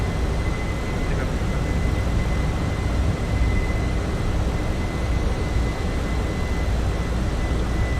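Airbus A320 taking off in the Fenix A320 flight simulator game: a loud, steady jet engine roar held throughout with a thin constant whine above it, no voices.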